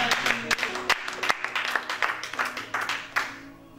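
A church congregation applauding during a worship service, with steady rhythmic clapping that rises and falls over a few seconds, fairly distant and reverberant.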